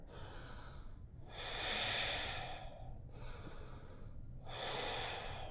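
Deep, slow breaths during a power flow yoga session, each long inhale and exhale rising and falling in a steady rhythm, close and alone with no talk.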